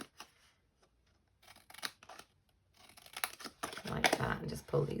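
Scissors cutting and mitering card pieces for a small gift box, soft snips and rustling paper handled close by, with a voice talking over much of it.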